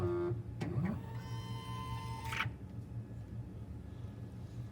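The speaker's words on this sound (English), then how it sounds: "cycle the pump once to make sure that the pump is dispensing the correct amount needed" A Fluidose liquid medication pump runs through one dispensing cycle: a brief mechanical whir and hum rises and holds for about a second, then cuts off with a click, leaving a quiet room.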